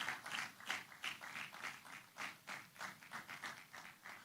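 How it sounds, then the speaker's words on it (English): An audience at the Metamorphosis 2026 event claps in a steady run of irregular bursts, soft and fairly distant, with no talk over it. "Can we keep clapping until she comes off stage?"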